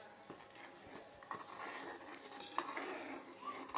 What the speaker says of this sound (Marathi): आपण ह्याला हळूहळू आचेवर, मंद आचेवर हलवत राहूया